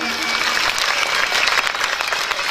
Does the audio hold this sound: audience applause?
yes